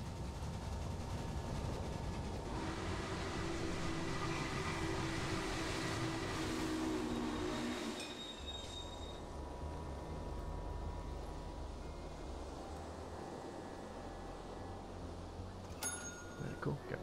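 Cattle train running in the Railway Empire video game, a rumbling rail ride with rolling wheel noise and a few clanks that eases into a quieter steady hum, with someone talking over it.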